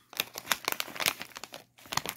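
A trading card booster pack wrapper is torn open close up. The foil crinkles in a quick run of bursts, pauses briefly, then crackles again, with no speech.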